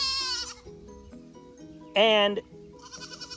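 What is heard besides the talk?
baby goats bleating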